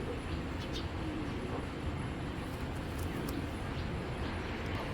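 Pigeons coo softly and repeatedly in a loft, with a steady background hum and no clear talk.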